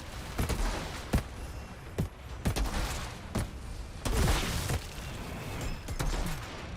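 Sniper rifle fire in the video game Outriders, with several sharp, widely spaced shots cracking out over a busy background of game noise, fairly loud and close.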